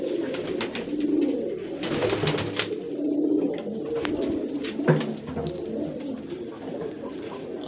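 Golden pigeons kept by a breeder coo repeatedly at close range, soft throaty calls overlapping in an uneven rhythm alongside light rustling.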